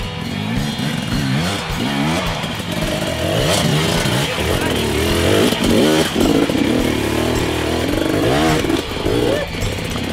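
A trial motorcycle engine chugging at very low RPM while climbing in a hard enduro challenge, a loud, close, continuous throbbing with uneven surges, mixed with clatter and voices talking over it.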